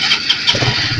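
The electric starter of a Suzuki FU125 motorcycle whirs and cranks briefly, then the engine catches and begins running, all close and loud with no speech.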